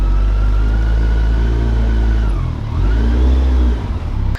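Kawasaki Concours 14 sport-touring motorcycle engine, a loud, steady close-up drone whose pitch dips and then swells again as the revs drop and climb over a few seconds, with no talk over it.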